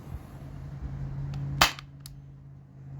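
A Byrpro Kinetics Sabre gun running on a nearly depleted 12 gram CO2 cartridge fires a single sharp, close crack, followed by a fainter click, over a low background hum.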